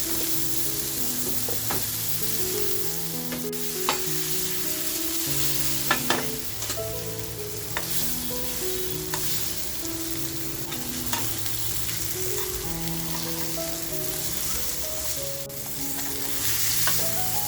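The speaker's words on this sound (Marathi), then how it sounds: "चिकन शिजायला आहे ना फारसा वेळ लागत नाही. आपल्याला एक छान असं फ्राय करून घ्यायचे." Chicken frying in a small amount of oil on a gas stove: a continuous, close sizzle with occasional stirring clicks, over a steady melodic background throughout.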